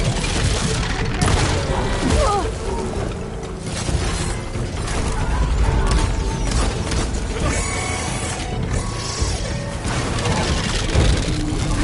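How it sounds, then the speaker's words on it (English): Robotic machine enemies closing in during a Horizon Forbidden West fight: dense clanking mechanical gears, ratcheting and crashing over thick game music and effects, loud and continuous with no clear break. "More machines are coming!"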